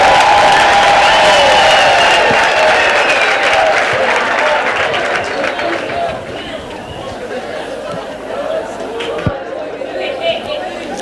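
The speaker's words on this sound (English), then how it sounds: "Can we please clap" Audience at a mining school launch event applauding after a presentation, a loud wash of clapping with crowd chatter mixed in that gradually fades, with occasional speech over it.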